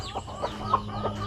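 Soft clucking from baby chickens on a farm in the Philippines, several short chirpy calls in a loose rhythm over a low steady background hum.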